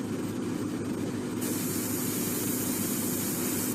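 Spray paint goes onto a 1/72 scale X-Wing model as a continuous close hiss. The hiss turns brighter and stronger partway through and carries on without a break.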